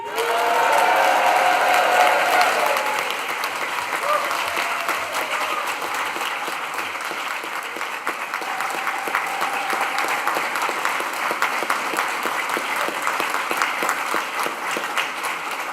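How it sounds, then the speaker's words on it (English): Sustained applause from a large crowd at a university graduation ceremony, loud and dense throughout, with cheering voices swelling at the start before settling into steady clapping. "let's mark the occasion this afternoon with a huge cheer and round of applause"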